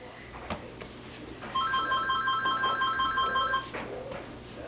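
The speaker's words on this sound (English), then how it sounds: "Oh, my phone is ringing." A phone rings in a repeating electronic trill of several short pulses, moderately loud indoors over a faint room background.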